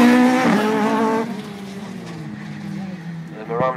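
Ford Escort rally car climbing a hill on a rally stage, engine note rising then easing as it pulls away, moderately close, under a commentator talking.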